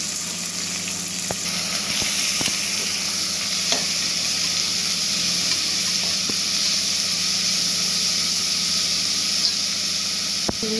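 Mustard seeds spluttering in hot oil in a home kitchen pan, a constant close sizzling hiss with scattered sharp pops and crackles over about eleven seconds.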